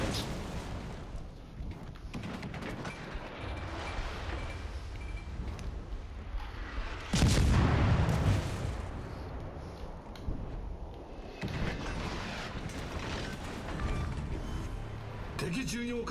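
Guns of the Furutaka cruiser fire in the naval battle game World of Warships, one heavy booming shot standing out midway against steady engine and ambient game noise, while a player talks throughout.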